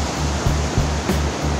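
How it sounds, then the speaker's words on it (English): Waterfall at Bust Your Butt Falls rushing in a steady, loud, broadband roar, close by and continuous with no voices. "There's some really nice waterfalls for you."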